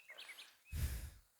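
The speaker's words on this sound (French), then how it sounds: "Je sais pas si tu entends le chant des oiseaux." Birds sing outdoors on a quiet morning, a few faint, thin chirps at a distance before a soft breathy rush of air close by.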